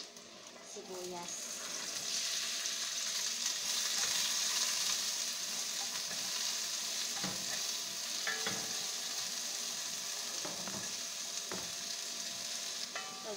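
Onion and ginger fry in a pan for chicken mami, a steady close sizzle with intermittent spatula scrapes and clinks against the metal as the pieces are stirred.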